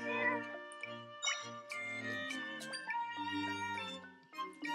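Cat meowing in Zelda: Echoes of Wisdom, several short mews alongside a bright, tinkling game music track, with no talk.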